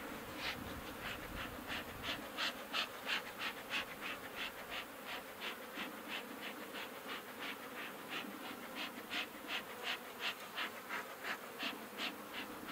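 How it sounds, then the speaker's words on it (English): Guard bees pour out of a hive entrance, buzzing close and loud in a dense drone with rapid pulsing wingbeat surges, no voices present. "Now the guard bees are coming out."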